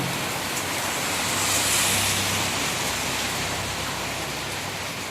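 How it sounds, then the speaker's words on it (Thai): Steady heavy rain pours down during a storm in Bueng Kan, Thailand, a dense continuous hiss that swells slightly midway, close and loud with no voices. "ฝนตกเริ่มตกแล้วครับท่านผู้ชม"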